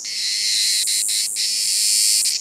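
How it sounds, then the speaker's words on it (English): A steady, loud, continuous insect drone fills the air, with a few brief pulses cutting through it, all close and sustained with no voices. "It's a cicada. It says here that cicadas are the loudest of all insects."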